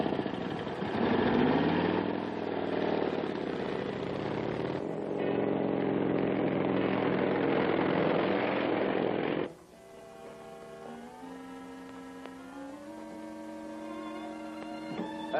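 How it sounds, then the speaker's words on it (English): Motorcycle engine on a 1940s road, a loud buzzing drone for the first half that suddenly drops away to a quieter, tonal hum with steady pitch and slight shifts. "Sounds like a motorcycle coming."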